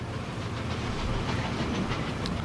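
A train rolling along rails in the Transport Fever simulation game gives a steady, dense rumble with a soft hiss on top, continuous and fairly loud throughout.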